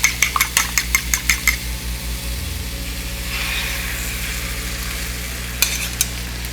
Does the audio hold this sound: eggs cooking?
yes